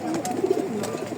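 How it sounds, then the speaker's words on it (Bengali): An aggressive male racing pigeon coos once up close, a short, soft, throaty warble heard on its own. "ভিউয়ার্স, একটা নর কবুতর দেখাচ্ছি আপনাদেরকে"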